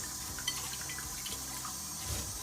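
Rice is washed in water for a Turkish butter chicken pilaf, with soft sloshing and light splashing at low volume and occasional small clinks, and no voices.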